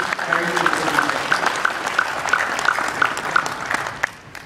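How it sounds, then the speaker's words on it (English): Applause from a Rotary membership session audience, a thin patter of claps with a regular rhythm, fairly close, fading out toward the end. "Give yourself a round of applause for joining today's very important"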